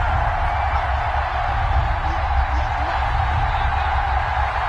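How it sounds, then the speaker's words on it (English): A stadium crowd in a PS4 football video game gives off a loud, steady roar and cheer, an unbroken wash of noise with no clear individual voices. "That just means this crowd's going to get even louder"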